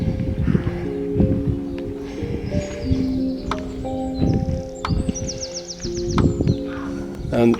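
Scattered bird chirps and short calls ring out in a quiet Normandy graveyard, fairly faint and intermittent over soft outdoor ambience and light rustling.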